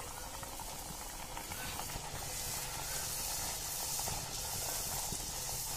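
Puris frying and puffing in hot rice bran oil in a village kitchen, a steady dense hiss and bubbling that stays even and continuous throughout, with no talking.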